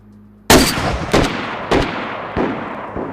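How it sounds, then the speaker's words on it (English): A Blaze rifle in DayZ fires a double shot heard from 100 meters: sharp booming reports with rolling echo, repeated four times at uneven intervals, no voices. "And here is the double shot at 100 meters."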